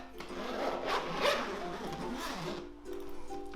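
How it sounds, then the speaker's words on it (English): The zipper on a Crossrock ukulele case is pulled open in a quiet room with a long rasping run, followed by softer handling sounds. "So we'll undo the zip."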